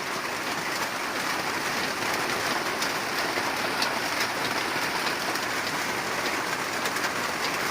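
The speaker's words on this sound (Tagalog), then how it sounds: "Lakas ng ulan, no?" Heavy rain pours down steadily in a dense, loud hiss of drops drumming on surfaces, continuous and unbroken without any talk over it.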